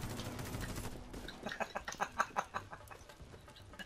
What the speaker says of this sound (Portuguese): É galinha, porra? Onde?